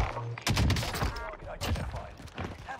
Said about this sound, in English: Can you not shoot people flying in?